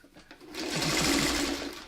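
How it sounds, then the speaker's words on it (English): A sewing machine stitches a quilt border with a Y seam, its fast motor whir rising in and running steadily for over a second, close and moderately quiet, with no speech. "as you're sewing along, right?"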